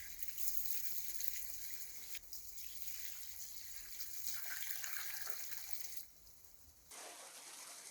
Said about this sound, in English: Fill the bucket with fresh water, I use rainwater, and pop a lid on.